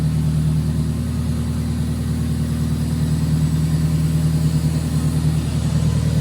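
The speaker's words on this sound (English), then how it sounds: "The car even sounds better though with these new spark plug wires." Rebuilt car engine with new spark plug wires idling steadily, a loud continuous low hum with an even pulsing beat and no talk.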